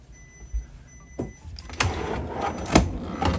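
A motorized TV lift whirs as it slides on a 2016 Tiara 44 Coupe yacht, with a few clunks and knocks along the way, close by and moderately loud.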